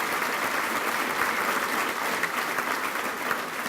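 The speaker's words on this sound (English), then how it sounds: "let's give a round of applause for that itself" Audience applause fills a touchdown club banquet hall, a steady dense wash of many hands clapping at even loudness throughout with no voices on top.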